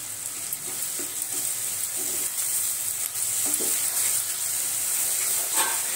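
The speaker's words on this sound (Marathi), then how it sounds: "गोल्डन रंगावर आपण कांदा 2 मिनिटं चांगला परतून घेऊ।" Onions sautéing in a pan with a teaspoon of salt as they are browned to golden, a constant bright sizzle with soft stirring scrapes, steady and close, with no one talking.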